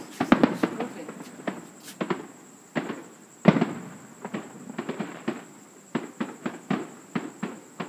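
Fireworks burst outdoors on July 2 as a series of sharp cracks and booms, some clustered and some spaced, heard from a moderate distance over a faint steady hiss.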